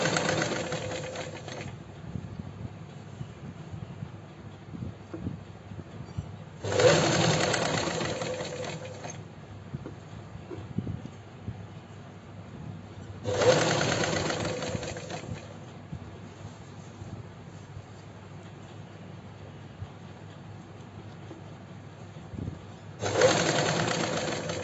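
A sewing machine stitches princess cut kurti fabric in three distinct bursts of rapid whirring, each a few seconds long, separated by quieter pauses with faint background sounds.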